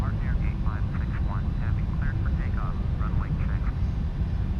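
A Boeing 747-400F cargo jet's engines in the Prepar3D flight simulator: a steady, loud low roar that holds through the whole short stretch, with a faint chirping tone above it.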